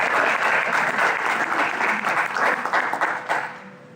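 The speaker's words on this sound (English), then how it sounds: "let's give them a round of applause" A crowd breaks into loud, dense applause for performers at an arm wrestling event, a sustained roar of clapping that tapers off near the end.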